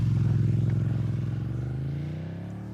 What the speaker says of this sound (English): Bitches love a man on a motorcycle.